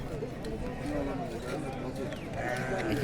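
Sheep bleating at a busy livestock market in Kokand, several overlapping bleats amid crowd murmur and people talking nearby.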